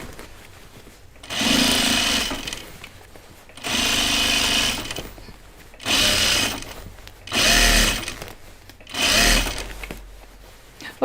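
A sewing machine stitches overalls in five bursts of steady whirring, each about a second long, separated by short pauses, close and fairly loud.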